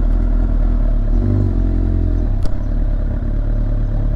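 A Suzuki GSX-R 750 motorcycle fitted with an Akrapovic exhaust idles and revs close by, a loud steady engine drone with a brief sharp clatter midway.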